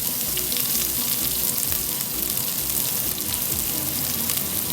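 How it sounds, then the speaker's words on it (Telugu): Finely chopped onions and cumin seeds frying in hot oil, giving a loud, steady, dense sizzle and crackle that continues without a break, close up. "ఉల్లిపాయ, అది కూడా వేసేద్దామండి హాట్ ఆయిల్లో"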